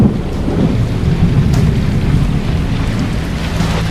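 Thunder rumbles over steady rain during a storm at sea aboard a yacht in the Strait of Malacca, a constant low roar with hissing rainfall throughout and no voices.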